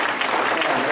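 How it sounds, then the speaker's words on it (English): Church congregation clapping and applauding together, a dense, steady wash of many hands, loud and close, with no pauses. "let's put our hands together and clap unto the Lord Jesus Christ"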